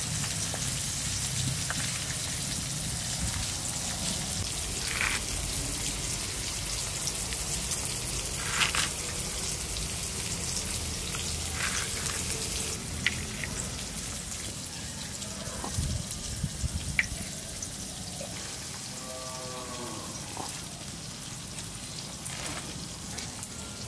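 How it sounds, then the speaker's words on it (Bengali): Crab frying in a pan, a continuous close hiss and crackle of hot oil with a few small pops and faint clinks, going steadily at moderate loudness with no talk. "কাঁকড়াটা ভাজা হয়ে গেছে"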